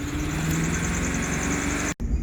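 A car engine idles steadily after a Sea Foam treatment poured through the air intake to clear carbon deposits, running continuously with a constant mid-pitched hum before cutting out abruptly near the end.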